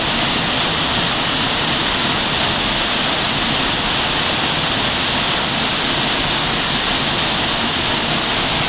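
A waterfall pours steadily near a cave, its dense, roaring wash of water loud and unbroken throughout with no voices.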